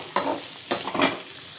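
Onions frying in oil in a pan for Tamil-style oil brinjal curry, stirred with a spoon in a few short scraping bursts over a steady close sizzle.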